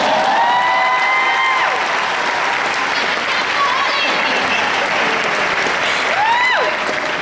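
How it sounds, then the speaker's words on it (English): Large Comic-Con panel audience bursting into loud, continuous applause with scattered cheers and whoops, filling the hall for several seconds. "I think that deserves an applause, people."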